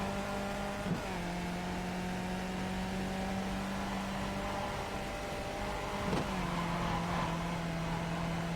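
A Skip Barber open-wheel race car at the Bathurst circuit holds a steady droning engine note in iRacing, with two brief shift dips as it pulls on, heard close and continuous without talk.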